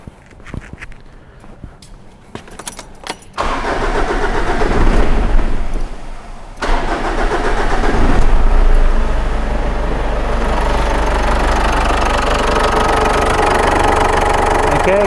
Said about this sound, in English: Let's start the car, make sure nothing is leaking from our plumbing there.